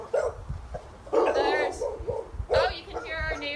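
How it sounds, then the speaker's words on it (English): Neighbouring dogs bark in short bursts in the background while someone talks outdoors, the barks sounding moderately distant and intermittent. "you can hear our neighbor's dogs"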